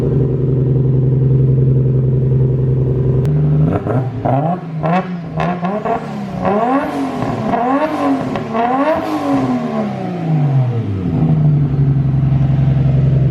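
A Nissan Skyline sedan engine on a dyno revs hard from a steady idle, climbing and dropping through several loud, rising sweeps before settling back to idle, with no voices.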